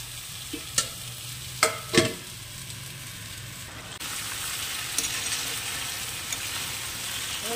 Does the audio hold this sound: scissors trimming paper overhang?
no